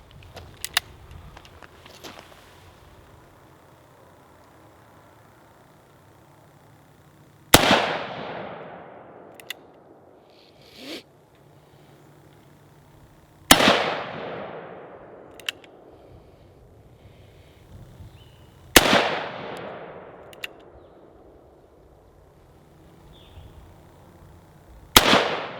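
Four loud, sharp gunshots from a Magnum Research BFR revolver chambered in .30-30, each a sudden blast with a ringing outdoor decay, spaced several seconds apart with quiet handling sounds between.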